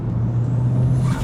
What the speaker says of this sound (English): I actually really enjoy the turbo delivery and the sound of it.